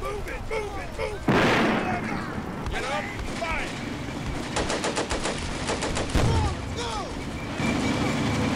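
Mortar and small-arms fire in the wartime strategy game Combat Mission: Beyond Overlord, with sharp bursts and a louder blast near the middle, crackling volleys around the five-second mark, all under steady talk.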